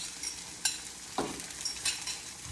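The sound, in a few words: whisked eggs poured into a hot pan to scramble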